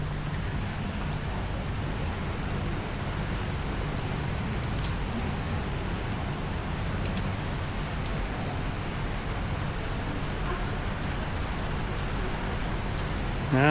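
Steady rain falls on surfaces at an outdoor market in Laos, a dense, continuous hiss with scattered louder drips, filling the whole stretch without any talk.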